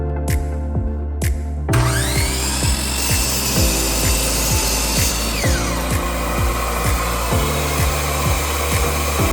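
A miter saw cuts through reclaimed pallet wood, running loud and steady with a rapid rhythmic rasp of strokes across the whole stretch, and no voices.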